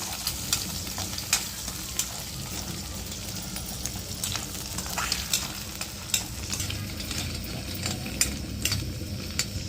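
Beaten egg seasoned with chili powder and salt being stirred and fried for egg Maggi, a steady close sizzle with intermittent scraping and tapping of a spatula against the pan.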